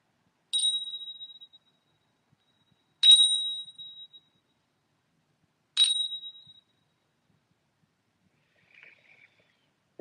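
Spring bells ring three clear, bright single chimes, spaced a few seconds apart, each fading into silence, with a faint fourth tinkle near the end.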